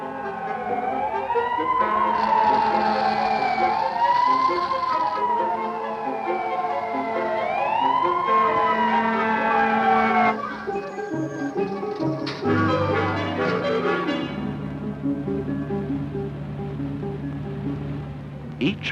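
A fire truck siren wails in rising and falling sweeps, loud and close, then gives way to engine rumble and clanking as the truck moves off, with a narrator's voice in an old 1967 film soundtrack.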